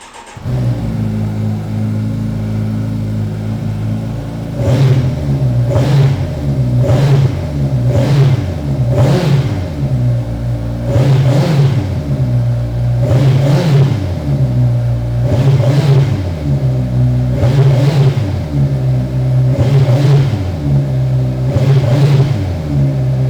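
A 2023 Kawasaki Ninja 1000SX motorcycle fitted with an Akrapovic slip-on exhaust idles loudly, then is revved in a series of about ten sharp, evenly spaced throttle blips that rise and fall back to a deep idle.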